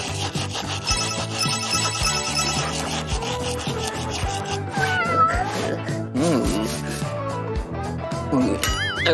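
A pet cat meows several times, with short rising and falling calls near the end, over a busy layer of music and rubbing sounds.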